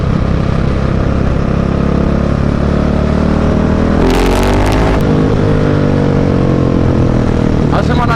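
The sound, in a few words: Husqvarna 701 motorcycle with Mivv exhaust accelerating uphill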